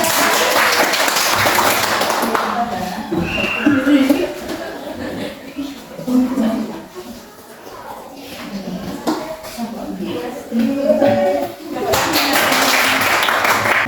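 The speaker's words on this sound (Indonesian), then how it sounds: "Kasih tepuk tangan Bapak Ibu." Classroom group clapping for the winning team in a lesson, bursts of applause at the start and end framing a stretch of talk and children's voices in between.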